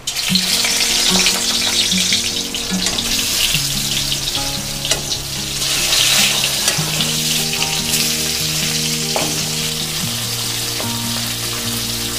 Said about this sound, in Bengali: কড়াইটা গরম হয়ে গেছে, এবার দিয়ে দেবো সরিষার তেল।